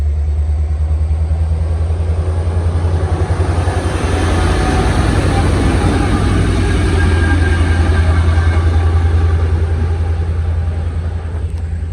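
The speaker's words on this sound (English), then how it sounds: "Locomotives be coming right over this bridge here" Locomotives rumble over a railroad bridge in a loud, sustained, low roar of engines and rolling wheels, heard close and steady throughout with no pauses.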